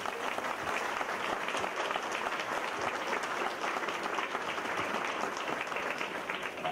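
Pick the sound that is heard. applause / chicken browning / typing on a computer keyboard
applause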